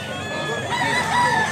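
A rooster of Doctor Blues bloodline crows in a short, drawn-out call over a busy backdrop of other fowl and murmuring voices in a Cebu gamefowl setting.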